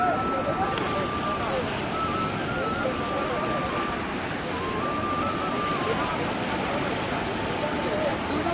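A river swollen overnight by floodwater rushes in a dense, steady roar with wind buffeting the microphone and voices talking faintly over it.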